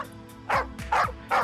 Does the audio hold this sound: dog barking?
yes